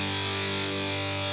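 A guitar played through a ProCo Rat 2 distortion pedal, giving a raunchy hard-rock tone: one sustained, buzzing distorted chord ringing loud and steady for about a second.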